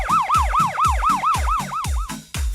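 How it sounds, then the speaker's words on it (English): A loud ambulance siren wails in rapid, repeating rising-and-falling sweeps, close and insistent, about ten cycles with no talking. "ambulance,"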